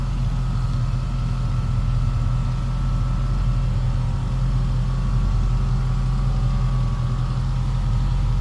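A deep, steady small-block V8 idle rumbles continuously at close range in a 1941 Ford Deluxe Convertible street rod, with strong low-end throb and no voices.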